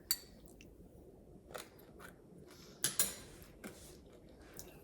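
Crunchy toasted popped quinoa being chewed close up, a few sharp crisp crunches standing out over a quiet, steady background with no talking.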